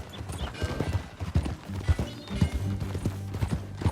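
Horse hooves clip-clop in steady rhythm across a ride in the video game Red Dead Redemption 2, close and fairly loud, with an occasional faint whinny in the background.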